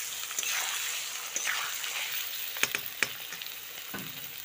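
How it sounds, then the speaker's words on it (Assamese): Potatoes fry until reddish brown, giving a continuous close sizzle broken by a few sharp clacks of stirring against the pan. "আলুখিনি মই ৰঙচুৱা হ'লৈকে ভাজিম"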